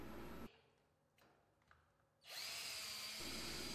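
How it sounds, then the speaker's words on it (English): Power drill boring 3/16-inch pilot holes into a wooden door jamb for garage door track and flag brackets, a loud whirring burst at the start, a pause, then a long steady high-pitched drilling run. "Pre-drill 3/16" holes for universal jamb bracket and flag bracket attachment to prevent splitting of wood"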